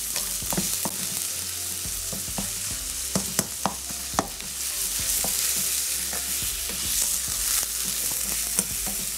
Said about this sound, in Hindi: इसको हमने फ्राई कर लेना है बहुत अच्छे से इस अदरक लहसुन